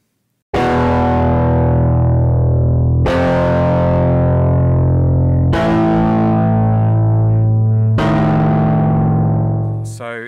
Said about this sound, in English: there's various levels of distortion and dirt